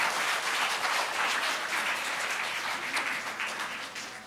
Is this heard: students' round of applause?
yes